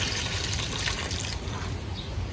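Water is poured into a cooking pot for native chicken tinola, making a steady, faint, close splashing flow that runs without a break for the whole moment.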